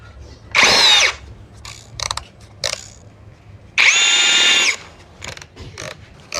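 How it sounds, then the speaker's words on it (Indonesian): An MLHY M-60 10mm cordless impact drill with a 10mm auger bit, on speed 2, whirs loudly in two bursts of about a second each, separated by quiet clicks and handling noises. "Oke, saya masuk mode bor, mata bor auger bit ukuran 10 mili,"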